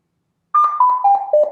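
A Google AIY Voice Kit version 1 game night timer gives a quick run of electronic beeps that step down in pitch, loud and close after brief silence.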